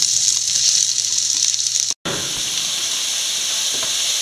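Onions sauté in a hot pan with a loud, steady hiss and sizzle, cutting out for a moment as ginger and garlic go in, then the frying continues.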